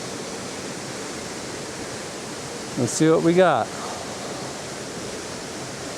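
Steady broadband rush of flowing water near tree roots fills the scene evenly and loudly, with a brief spoken phrase partway through.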